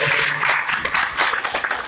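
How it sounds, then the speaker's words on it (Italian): An audience at an award ceremony applauds the maestro, a lively burst of many hands clapping with uneven, rippling peaks throughout. "un applauso anche al maestro"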